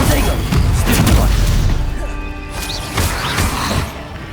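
A Stupefy spell cast in the video game Hogwarts Legacy: loud booming impacts and crashing magical bursts in an action scene, with game effects ringing out between the hits.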